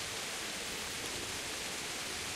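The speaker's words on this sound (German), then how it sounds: "Boah, es ist laut hier mit dem Regen, ist ja Wahnsinn." Heavy rain in the medieval role-playing game Kingdom Come: Deliverance, a dense, steady hiss of downpour that fills the whole stretch evenly and loudly, with no voices over it.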